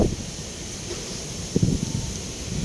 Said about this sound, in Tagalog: Lamig ngayon, malakas yung hangin.